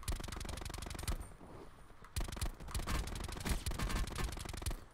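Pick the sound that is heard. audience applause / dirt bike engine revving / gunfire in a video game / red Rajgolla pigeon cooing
gunfire in a video game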